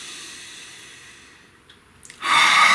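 A deep breath taken close to the mic: a quiet, drawn-out airy sound that fades, then a few small clicks and a sudden loud, hissing rush of air near the end.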